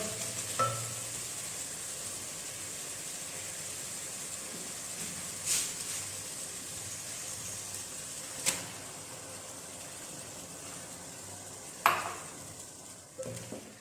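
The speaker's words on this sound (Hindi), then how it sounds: "टमाटरों को भी अच्छी तरह फ्राई कर लेंगे।" Chicken and tomatoes frying in a pan, a steady sizzle with a few sharp clinks and scrapes of stirring spaced several seconds apart, no talking.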